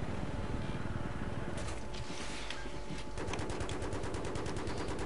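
Machine gun fire in the Battlefield 3 video game, loud and dense with rapid bursts that speed into a fast, even stream of shots in the second half, set against continuous noisy battle din.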